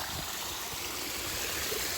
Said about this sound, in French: Voyez, on a un petit ruisseau d'eau là qui coule tout le long.